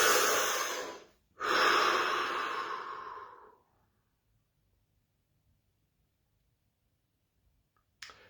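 A single deep breath in a calm guided session, a long audible inhale and exhale close to the microphone with a brief pause between, then near silence.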